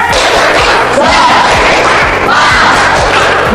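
University lecture participants in a PKDP class perform the 'tepuk semangat' clapping chant: loud, steady group claps land about twice a second beneath continuous shouted chanting from the whole room.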